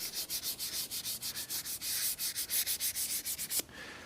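Sandpaper rubbing a turned whiskey tumbler, fast back-and-forth strokes giving a rhythmic hissing scratch, close and steady for several seconds before stopping abruptly.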